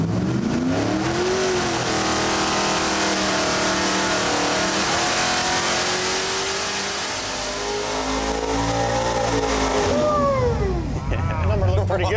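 The 600-horsepower engine of a mud truck revs hard and close, its roar climbing and falling through the rev range for several seconds before a final sharp run of throttle blips.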